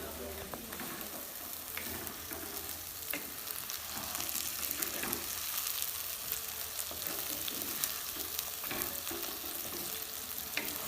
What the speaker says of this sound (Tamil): இப்போ நம்ம மீன் உடஞ்சி வராம லேசா நம்ம கிண்டணும்